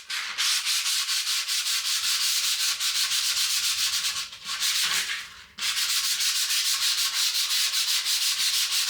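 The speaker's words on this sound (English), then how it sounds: "now that this coat is dried, let's give it a light rub down" Close, steady rasping of sandpaper rubbing lightly over painted MDF in fast back-and-forth strokes, continuous apart from a brief break midway, with no talking.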